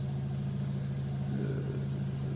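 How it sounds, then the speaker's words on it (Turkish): A Fiat Albea 1.2 16V car engine idles steadily after about 15 minutes of running, a constant low hum with a faint higher whine, close and unchanging throughout. "Araç neredeyse 15 dakikadır çalışıyor bu şekilde."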